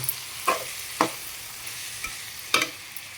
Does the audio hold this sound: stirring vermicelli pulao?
yes